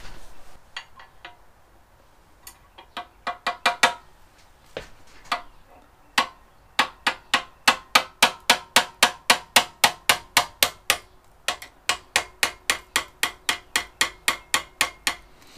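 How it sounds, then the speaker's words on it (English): A hammer drives pins out of a barn-find Benelli 750 SEI six-cylinder motorcycle part using a round bar as a punch. Sharp metallic strikes come close and clear, first in scattered taps, then in long steady runs of evenly spaced blows. "I'm going to try to press these pins from the back side here."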